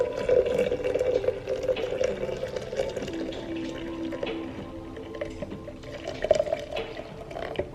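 Water runs and trickles steadily into a vessel while coffee is being made in a home kitchen, a continuous moderately close liquid pour with faint splashes and no talking.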